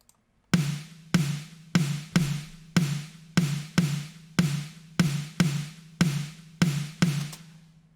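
A layered snare sample, a Black Beauty snare combined with a lower wooden snare, hit about thirteen times at an even, steady pace, each crack sharp and close with a short decaying ring.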